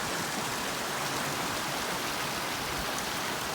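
A river flowing toward the ocean, heard as a soft, even, continuous rush of water with no breaks, fairly faint and alone.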